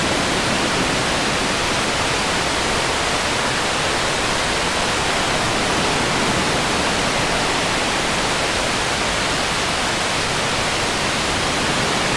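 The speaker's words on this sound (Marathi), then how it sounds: "असं वाटतं हा धबधबा पाहतो" A steady, loud roar of rushing water from a waterfall on a monsoon trek near Pune, dense and unbroken throughout with no voices.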